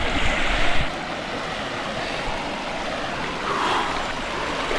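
River rapids in Langkawi make a continuous rushing, churning wash of water, close and fairly loud, with some wind buffeting the microphone and no talking.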